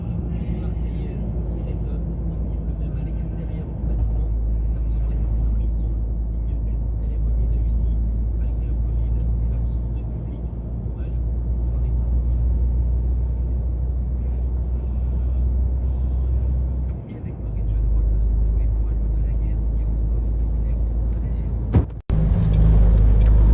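Road traffic near Poitiers in the morning: a steady engine rumble and road noise from a moving car, with other cars passing, continuous and fairly loud, ending with a sharp thump.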